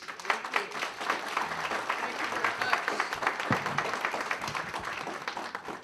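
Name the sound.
audience round of applause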